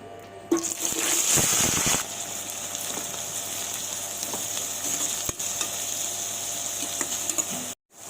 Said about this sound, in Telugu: నూనె అయితే కాగిపోయిందండి. మనం ఆల్రెడీ కోసి పెట్టుకున్న ఉల్లిపాయ పచ్చిమిరపకాయలు ఇందులో వేసుకుందాం.